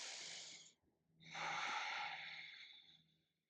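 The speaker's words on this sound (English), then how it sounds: "Breathing in and out through the nose." Slow, deep breaths drawn in and let out through the nose during a gentle full moon yoga flow, a soft airy inhale and a longer exhale heard close and alone.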